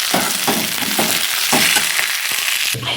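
Moringa leaves fry in oil in a pan as cooked green gram is stirred in: a steady, dense sizzle broken by rhythmic scraping stirs, close and fairly loud, with no voices.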